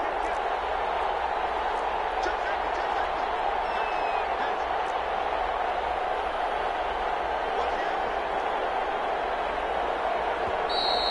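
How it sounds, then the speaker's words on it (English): In an American football video game, a stadium crowd roars at steady volume throughout, a dense wash of cheering with scattered claps and shouts, while a commentator's voice talks over it. "Listen to this crowd now."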